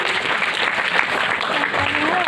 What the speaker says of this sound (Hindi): इसलिए एक बात तालियां बजा ही दीजिए